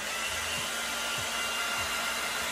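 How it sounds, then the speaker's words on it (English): A blow dryer runs loud and steady right next to the listener during a brow makeup routine, its constant whirring drone unbroken and without talk. "I've now also incorporated a blow dryer when I can."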